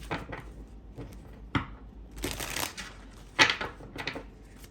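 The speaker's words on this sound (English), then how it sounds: "Let me shuffle again because these cards are being weird." Tarot cards being shuffled close by in uneven bursts of riffling and soft slapping, with brief pauses between handfuls and a sharper snap midway.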